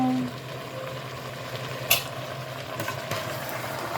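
Potatoes, carrot, malanga and sweet potato go into a pot of Cuban ajiaco, with a steady close sizzle and bubbling, one brief sharp clatter midway and a few soft knocks.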